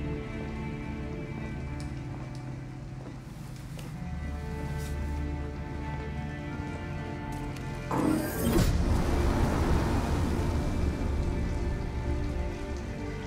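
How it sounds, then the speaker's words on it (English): Heavy rain pours in the video game Detroit: Become Human, a steady hiss of drops on surfaces under a low hum, swelling louder partway through and staying dense to the end. "it's pouring rain"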